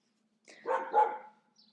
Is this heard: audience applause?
no